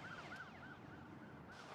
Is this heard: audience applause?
no